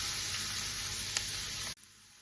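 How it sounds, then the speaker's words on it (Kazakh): Onion and carrot frying in a pan with a little oil, a loud steady hiss of sizzling for nearly two seconds that cuts off abruptly, leaving a quiet low background. "Енді пияз бен сәбізді қуырамыз."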